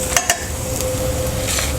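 Garlic and small-cut carrots sizzle in a pan with very little oil, a constant bright hiss broken by a couple of quick utensil scrapes and clinks near the start.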